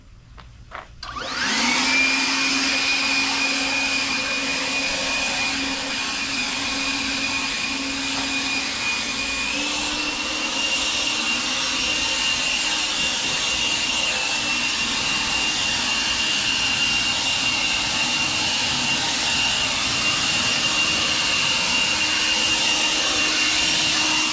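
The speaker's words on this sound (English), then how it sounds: "I'm going to blow some pine straw." A Kobalt 40V Max cordless leaf blower spins up with a rising whine and then runs steadily at high speed, blowing pine straw in a flower bed, loud and close, with a slight pitch shift partway through.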